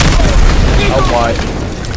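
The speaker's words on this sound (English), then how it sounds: "Enemy rocket launcher." Heavy explosive booms and gunfire from a World War II battle in the video game Call of Duty WW2, as an enemy rocket launcher fires; loud, dense, continuous rumble with someone talking over it.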